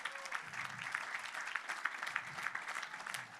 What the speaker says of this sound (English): Let's give a strong hand of applause for all of these individuals.